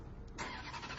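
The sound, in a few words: Ferrari V8 engine idling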